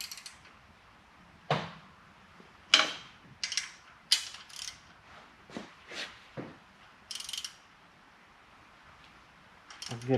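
Hand wrench tightening the rocker box bolts on a 2004 Harley-Davidson Road King Twin Cam: a series of short ratcheting clicks and metallic taps in irregular bursts, close and fairly quiet, with no talking.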